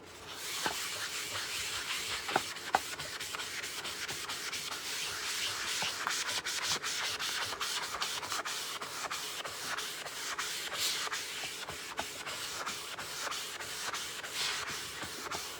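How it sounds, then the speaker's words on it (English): Board eraser rubbing chalk off a damp chalk craft board, a close, continuous scratchy swishing with rapid back-and-forth strokes and a few sharper knocks, steady for the whole stretch with no talking. "you're going to take that board eraser and you're just going to clean that off"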